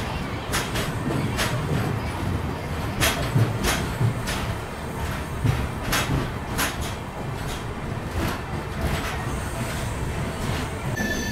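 A train crossing the new Pamban Bridge rumbles steadily, with sharp periodic clacks of wheels over rail joints repeating through the passage.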